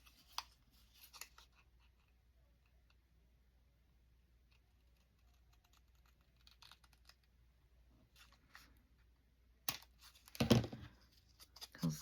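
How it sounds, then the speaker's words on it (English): Quiet scissor snips cut a paper flap off a handmade Daisy journal, a few faint cuts and rustles in a near-silent room, ending in a louder paper crunch. "make it a tuck like this and cut this flap off"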